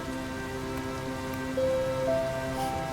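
Steady rain pours in the DDLC Downpour game, a continuous soft patter under sustained tonal game music, with a slight swell partway through.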